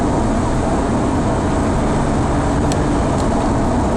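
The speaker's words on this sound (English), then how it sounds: "A little bit of wind noise is creeping in now," Steady broadband wind and road roar inside a BMW M3 Evolution cruising at 60, a constant loud rushing hiss with no voices.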